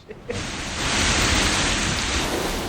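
Steady, dense rain during a storm swells to a loud, even hiss after a brief quieter start and then keeps pouring without pause.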